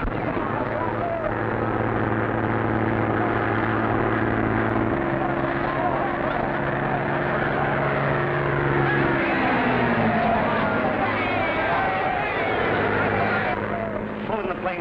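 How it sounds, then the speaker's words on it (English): A steady droning aircraft engine, as in a 1940 film, with sustained low tonal hum and shifting pitch held loud and constant throughout, with a faint voice over it. "Pull in the plane, will you, Jonesy?"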